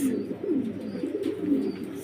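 Soft, repeated pigeon coos with a low rolling tone, steady and fairly close, with no talking, at a large pigeon farm in Faridpur, Bangladesh.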